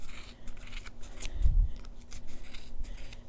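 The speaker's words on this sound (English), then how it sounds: "So cut down the middle of both sides here." Scissors snip through yarn wound on a Boye pom pom maker, with a run of close, crisp cuts and one heavier chop near the middle, heard alone without talk.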